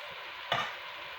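Garlic pork sizzles steadily in a hot pan, a constant bright hiss with one brief sharper crackle or stir midway.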